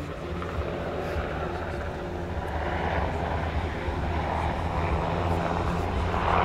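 A Sikorsky UH-60M Black Hawk helicopter of the Slovak Air Force at the NATO Days air show in Ostrava, 2023, heard as a continuous loud engine and rotor drone, with a slight rise toward the end.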